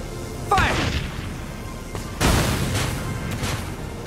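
Artillery fire and explosions in the video game Valkyria Chronicles 4, two heavy booms a second and a half apart, each followed by a long rumbling decay, loud and close.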